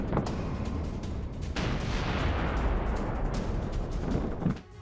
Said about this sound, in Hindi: T-90M टैंक से यूक्रेनी ठिकानों पर शेलिंग की